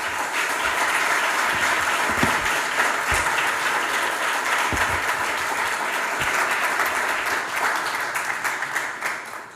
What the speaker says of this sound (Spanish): Un aplauso para el jurado que lo ha hecho posible.